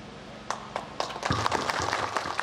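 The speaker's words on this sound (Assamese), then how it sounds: "আপোনালোকে হাত চাপৰি জনাই তেখেতক সম্বৰ্ধনা জনাব।" Audience applause at a political meeting in Assam, building from scattered claps into a steadier ragged patter of many hands, moderately loud, with faint voices beneath.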